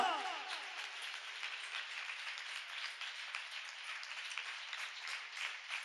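Steady applause from a church congregation at a Good Friday service, many hands clapping continuously at a moderate level, somewhat distant, without a clear pause.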